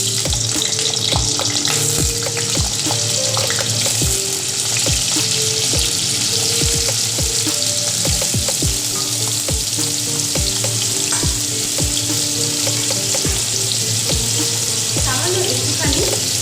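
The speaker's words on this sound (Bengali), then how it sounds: "আমি প্রথমে আলুগুলোকে ভাজা করি।" Diced potatoes fry in hot oil in a home kitchen, a steady loud sizzle running throughout with repeated scraping stirs of the spatula every second or so.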